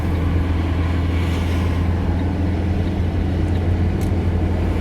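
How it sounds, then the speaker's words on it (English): A driving-school car merges onto a motorway, its engine and tyre roar forming a steady, continuous low rumble with constant road noise and no breaks. "Here I'm entering the motorway."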